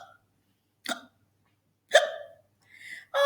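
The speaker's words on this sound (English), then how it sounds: "I have hiccups." Four separate hiccups, sharp and close, spaced about a second apart with silence between them.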